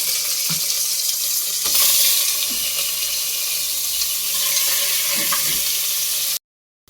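Mutton with salt and turmeric sautés in a pot as it releases its water, giving a loud, continuous, close sizzle with faint stirring scrapes before it cuts off abruptly into silence.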